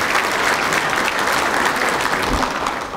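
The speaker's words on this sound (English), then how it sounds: "Let's give them a round of applause as well." An audience at a tribute event for an Army colonel claps in sustained, dense applause, loud and steady throughout before easing slightly at the end.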